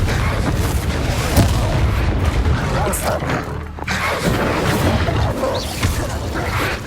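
Spell blasts and booming explosions in Hogwarts Legacy combat, a dense run of loud thumps and crashes with game effects layered throughout.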